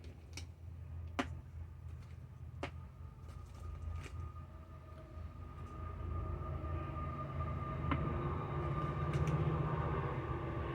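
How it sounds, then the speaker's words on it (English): A distant train rumbles low and grows slightly louder, with faint clicks and ticks scattered over the steady drone. "You guys hear the train?"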